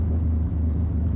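A 1966 Chevrolet Nova Pro Street engine holds a deep, loud, steady rumble under light throttle, a heavy low idle-like drone without a clear rise in pitch across the short stretch.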